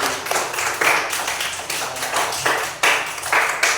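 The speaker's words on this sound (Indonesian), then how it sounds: "Kasih tepuk tangan dulu" A classroom of students claps for a group presentation during a teacher's lesson, a dense, bright spread of hand claps in uneven bursts, fairly close and loud.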